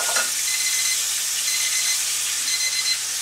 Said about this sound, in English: Timer going off